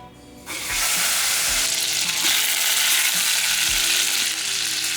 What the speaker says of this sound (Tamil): இந்த அஞ்சு முட்டையும் இந்த எண்ணெய் எண்ணெய்க்குள்ளேயே போட்டுடலாம்